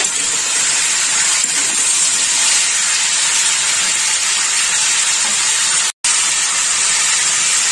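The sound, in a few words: vegetables frying in pan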